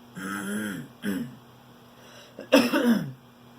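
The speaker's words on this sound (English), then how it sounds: "sorry for clearing my throat so much" Someone with a pollen-irritated throat clears it several times, short rasping bursts separated by pauses, close and fairly quiet.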